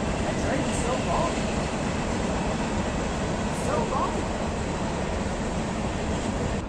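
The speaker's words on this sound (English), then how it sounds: "That train is so long." Continuous broadband roar of a very long train still passing nearby, a steady unbroken rumble that holds at the same level throughout.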